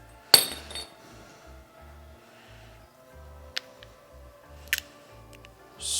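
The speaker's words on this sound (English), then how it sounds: "Just need to swap over the bolt that goes through it and also the washer on the back" Metal clinks and taps as a bolt and washer are swapped on a timing belt tensioner pulley for a 1UZ-FE VVTi engine rebuild, a sharp clank near the start and a few brief light clicks later over a quiet low hum.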